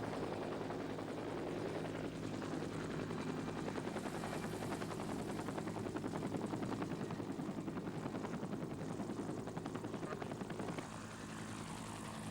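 Several helicopters land on a mountain ridge near Mount St. Helens in 1980, rotors thudding in a dense, continuous roar with a fast chopping pulse, holding steady and loud before easing slightly near the end.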